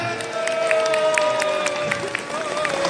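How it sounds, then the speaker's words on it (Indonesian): An audience claps and cheers after a Polish dance performance at the Surabaya Culture Festival, with crowd noise and a voice over a sustained musical tone. "Sekali lagi terima kasih, tepuk tangan buat Polandia."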